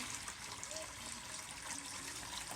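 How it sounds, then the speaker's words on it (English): Nutrient-rich fish tank water poured into a plant pot for transplanting crops, a steady, faint hissing wash of liquid running continuously without a break. "We're gonna pour a bunch of water in here."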